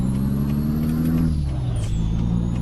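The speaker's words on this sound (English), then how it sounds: "Now I'm just going to go try the exhaust brakes." Loud, steady rumble of a Kenworth K200 truck's exhaust brake in Euro Truck Simulator 2, a deep droning engine note that sinks lower as the truck slows, with a faint whine above it.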